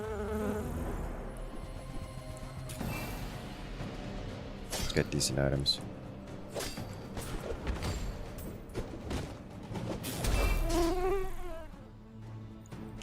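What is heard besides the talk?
buzzing of a Dire Mosquito in the video game The Bazaar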